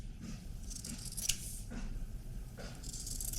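Scissors trim the fabric seam allowances on a sewn waistcoat: a few quiet, close snips and slides of the blades through cloth.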